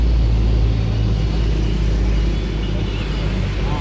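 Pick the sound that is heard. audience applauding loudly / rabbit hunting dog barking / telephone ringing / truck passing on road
truck passing on road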